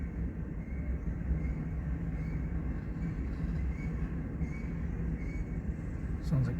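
Intermodal freight train rolling past in Fremont, Nebraska with a brake partly applied, a steady rumbling roar of wheels and cars at moderate distance, a faint squeal rising at the end.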